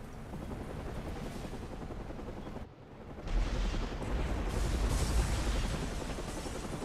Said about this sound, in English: guess the fireworks are going off early